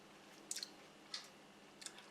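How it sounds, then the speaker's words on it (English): Soft, close chewing, with a few moist bites and crunches spread irregularly over a quiet background hiss. "you know it's hard to talk when you're chewing"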